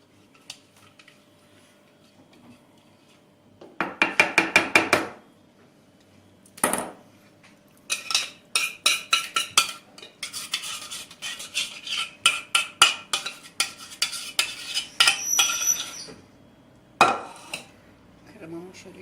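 Cooled cream is poured and spread over a homemade layered summer cake. Close, sharp clinks and taps of utensils against a dish and pan come in quick clustered bursts, with quiet pauses between them.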